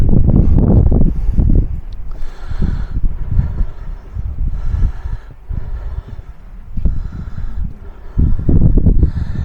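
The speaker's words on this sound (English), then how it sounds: "She's a bit windy up here though" Gusty wind at a remote, high, logged area buffets the microphone in uneven bursts, a low roaring rumble that swells and fades without a break.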